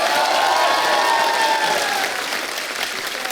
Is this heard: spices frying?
no